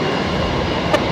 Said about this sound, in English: We've got the Cathay Pacific just about to line up over on the new parallel runway